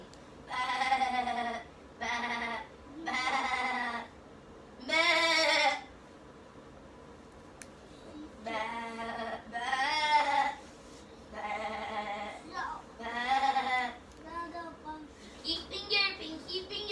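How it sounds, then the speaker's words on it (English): A goat bleats repeatedly nearby, a series of wavering, nasal cries in uneven bursts with short gaps, some overlapping faint background chatter indoors. "It's a goat."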